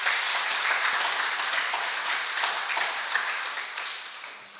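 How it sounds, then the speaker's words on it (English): Audience at a reading clinic opening ceremony applauds a woman and her team, a steady wash of many hands clapping that holds evenly and then tapers off toward the end. "Give her and her team a round of applause."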